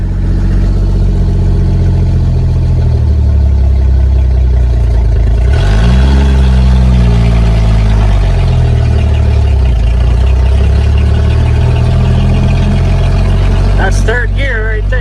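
A 1950s-era International Harvester L-130 truck engine driving in gear, a steady loud drone inside the cab that drops and climbs again as the driver shifts up, with a brief rattle near the end.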